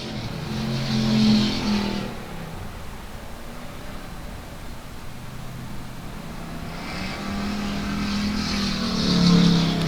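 Race cars roaring along the backstretch of South Texas Speedway, engines swelling loud as they pass near, fading to a distant drone, then building again as another pack approaches.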